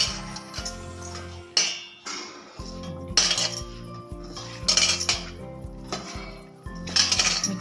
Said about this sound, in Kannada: ಇದ್ರೊಳಗೆ ನೀಟಾಗೆ ಮಿಕ್ಸ್ ಮಾಡ್ಕೋಬೇಕು